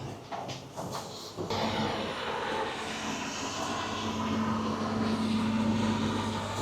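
An airplane engine roars at an airport, starting with a few clunks and knocks before a steady, building jet rumble with a rising tone, fairly distant and continuous, no talking.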